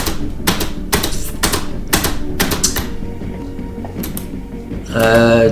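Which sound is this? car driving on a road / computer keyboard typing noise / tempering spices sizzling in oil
computer keyboard typing noise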